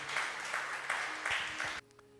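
A church congregation applauds, a dense burst of clapping that fills the room for under two seconds before stopping abruptly, with a voice speaking underneath.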